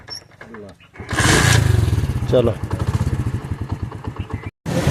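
A small motor scooter engine starts and runs with a rapid, putt-putting idle close by, a brief spoken word before it catches.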